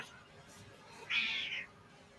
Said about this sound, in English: There's a cat underneath me.